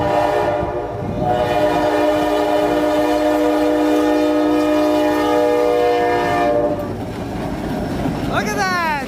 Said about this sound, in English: Enjoy the trains, enjoy this intro.